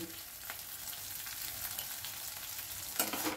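Spices for a Bengali doi maach made with rohu fish sizzle steadily in a pan, a continuous frying hiss throughout with a brief stirring scrape near the end.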